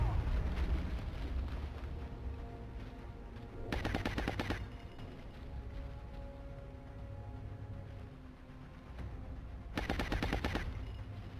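Rapid automatic gunfire in XCOM: Enemy Within (Long War mod), two sustained bursts of clattering shots separated by a few seconds, heard over a low, constant game soundtrack and ambient rumble.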